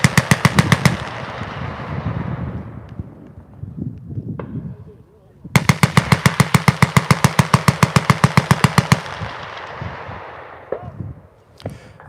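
A Vickers medium machine gun fires two loud bursts: a short one at the start, then after a pause a long, rapid, evenly spaced string of heavy shots with echoing tails, with background chatter between.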